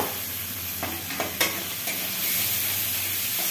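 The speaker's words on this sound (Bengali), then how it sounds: "শুটকিটা মশলার সাথে ভেজে নেব।" Dried fish shutki frying in spice paste in a pan, a steady close sizzle with a few sharp clinks and scrapes of stirring, no talking.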